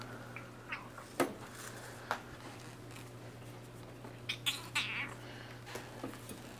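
A cat meows several times in an apartment, short faint cries spread across the span over a low steady hum, with a few soft clicks and taps between them.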